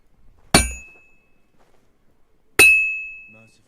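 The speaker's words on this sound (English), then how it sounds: "The first bell." A bell in the video game Kingdom Come Deliverance 2 strikes twice with bright metallic clangs about two seconds apart, and the second ring hangs on and fades slowly.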